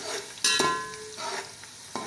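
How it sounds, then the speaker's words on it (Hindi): Whole spices and a bay leaf fry in hot oil, a close sizzle with sharp spoon-stirring clinks and scrapes against the pan, faint and intermittent, no voices. "इसको थोड़ा सा फ्राई कर लेंगे।"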